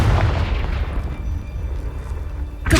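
A Confringo blasting curse explodes in the video game Hogwarts Legacy, a deep booming blast that rumbles and decays over a couple of seconds before a sharp new burst at the end.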